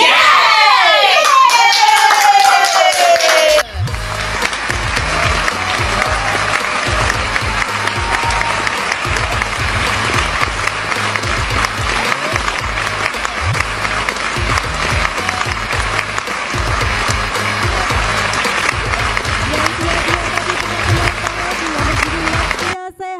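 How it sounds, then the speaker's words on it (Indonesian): Loud, sustained applause from an audience at a primary health service launch event in Bengkayang, dense clapping with some cheering voices filling the hall after a brief spoken lead-in. "Sekali lagi boleh tepuk tangan yang meriah"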